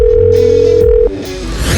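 A telephone dial tone plays loudly over a speakerphone as a call to the police is placed, one steady continuous tone for about a second before it cuts off into room noise and movement.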